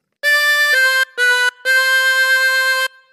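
Solo harmonica sounds the third phrase of God Save the Queen: four loud, close reedy notes, the first two joined, then a short one, then a long held note to finish.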